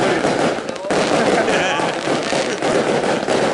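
Dense crackling bursts of village fireworks celebrating Eid al-Fitr, loud and continuous, with sharp pops and sizzling overlapping throughout.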